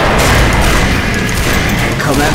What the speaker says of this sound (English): Watch the explosion!